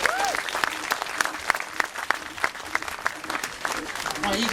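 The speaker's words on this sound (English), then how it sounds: "So I think another little clap for my 9 blue friends here." Audience at a sheep show clapping for the performing sheep, a moderate burst of individual claps with uneven rhythm, and a voice briefly audible at the start and end.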